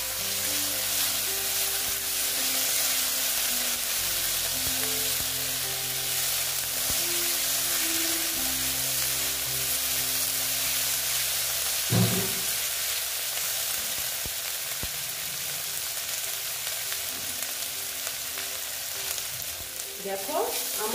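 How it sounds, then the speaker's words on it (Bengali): Ginger garlic paste frying in oil in a pan, a steady loud sizzle throughout with occasional stirring scrapes and a brief clatter about two-thirds of the way in. "দিয়ে এবার আমি এটাকে ভালো মতো ভেজে নেব।"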